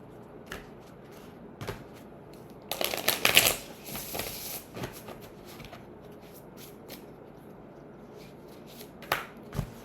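Tarot cards are shuffled and pulled close by in a quiet room: scattered soft flicks and slaps, then a dense riffling burst of a couple of seconds, followed by more light card snaps.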